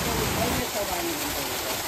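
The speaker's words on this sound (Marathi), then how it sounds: "जो नॅचरल छोटा धबधबा म्हणजे थोडक्यात वाळ्याचं पाणी" A small natural waterfall in a forest sends out a steady, broad rush of falling water, with a person talking over it.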